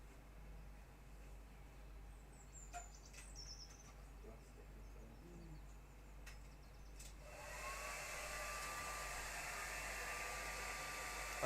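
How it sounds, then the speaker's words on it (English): A hair dryer switches on partway through to dry acrylic paint, giving a steady, loud, close airy roar with a thin whine after a quiet stretch with faint background chirps. "You want the hairdryer?"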